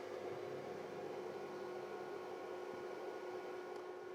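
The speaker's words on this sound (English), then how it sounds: "I'm also using a fish tank agitator. So we'll just drop that in and turn it on." A fish tank agitator stirs plating solution for Land Rover 2.25 engine parts. It gives off a constant low electric hum with an even whirring wash and no talking.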